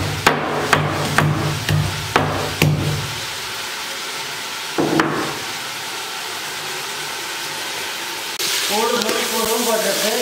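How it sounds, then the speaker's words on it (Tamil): Tomatoes frying in a large pot for a fish curry made with five kilos of fish, with a few sharp clanks of a spoon at the start, then a steady sizzle and some bubbling near the end. "அஞ்சு கிலோ மீனுக்கு தக்காளி போட்டு வதக்குறேன்."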